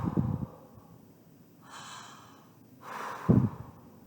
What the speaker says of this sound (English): Breathe in with me.